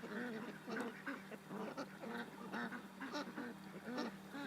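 Ducks quack in a rapid, overlapping series throughout, several birds calling at once at moderate distance on a farm, with soft outdoor background and no talk.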